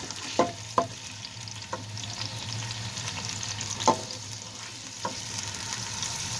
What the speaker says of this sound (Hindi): प्याज को हम तकरीबन 1 मिनट तक फ्राई करेंगे।